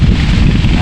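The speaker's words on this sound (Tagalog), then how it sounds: "simoy ng hangin talaga." Gusty outdoor breeze buffeting close against the microphone, a loud continuous rumble with no other sound.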